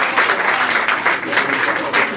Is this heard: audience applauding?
yes